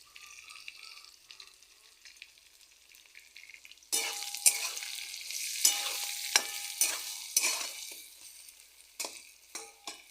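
Eggplant cooks in hot oil with turmeric, starting with a quiet steady sizzle, then a louder frying hiss with repeated stirring scrapes and clatter from a spoon in the pan.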